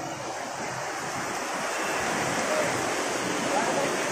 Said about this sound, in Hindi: पानी आप देख सकते हैं कि ये उबल रहा है पानी